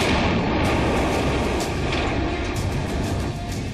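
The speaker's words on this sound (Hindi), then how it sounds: "LOC पर कारगिल के सुनसान पहाड़ियां बोफोर्स तोप से निकले गोलों से गूंज रही थी" Bofors artillery guns fire shells over the Kargil hills during the war, a dense, loud, continuous barrage of booming blasts and rumble filling the whole stretch, with no speech.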